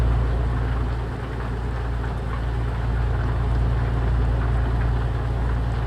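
Rain pattering steadily over the drone of a heavy truck engine while driving in Euro Truck Simulator 2, a continuous low rumble with a constant hiss and no speech.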